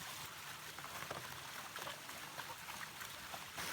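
Water flowing through a stainless steel Coanda screen in sub-zero cold, a steady hissing rush with a faint trickling texture, constant and unbroken.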